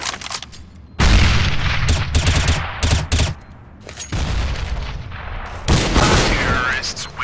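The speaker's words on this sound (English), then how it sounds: "Grenade!" Counter-Strike: Global Offensive gameplay with a grenade blast and bursts of gunfire, loud booms and rapid shots in clusters over several seconds, with a person talking over the action.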